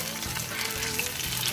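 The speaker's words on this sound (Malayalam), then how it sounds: "ബ്രൗൺ ആവുന്ന വരെ നമുക്കിത് ഫ്രൈ ചെയ്യാം" Stuffed banana frying in hot oil until browned, a steady close sizzle and bubbling hiss throughout.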